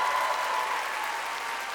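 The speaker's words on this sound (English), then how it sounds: "she doesn't get many rounds of applause like that at the moment" Applause at an awards ceremony: a dense, steady round of clapping from a crowd, loud and continuous throughout, with no voices standing out.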